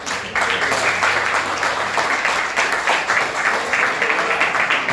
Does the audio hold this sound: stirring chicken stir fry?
no